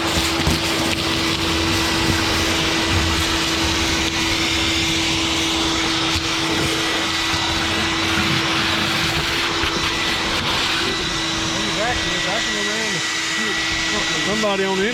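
Vacuum cleaner running steadily and loud while cleaning out the fuel tank area of an abandoned 1966 Ford Mustang, a constant whining drone with a strong tone throughout, voices faintly underneath near the end.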